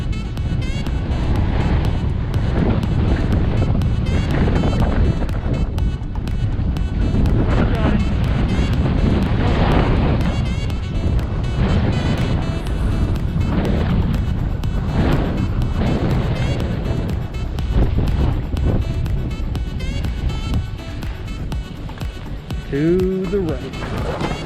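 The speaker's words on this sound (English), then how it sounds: "I think they have like 40-mile-an-hour, 50-mile-an-hour winds in sections." Strong gusting wind of about 40 to 50 mph roars across the mic on a ski slope at Bridger Bowl, a loud, continuous rumbling buffet that persists for the whole stretch with only slight easing near the end.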